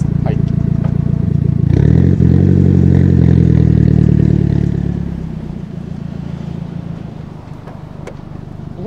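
Nissan S15 Silvia with stock catalytic converter and an unbranded muffler, its engine rising into a loud, steady rumble as the car creeps forward, then easing back to a quieter idle.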